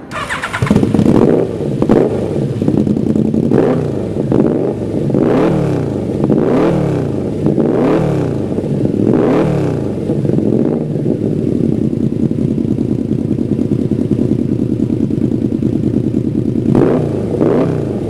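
A roadster motorcycle engine is blipped hard in a series of about eight sharp revs, each rising and falling, then settles into a steady loud idle before one last rev near the end.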